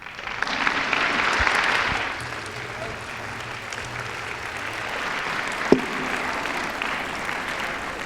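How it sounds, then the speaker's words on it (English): An audience gives a sustained round of applause after an award acceptance speech at a lifetime achievement hall of fame ceremony, loudest at first and then settling into steady clapping that carries on throughout. "Once again, a big round of applause for Susan Capps Morris"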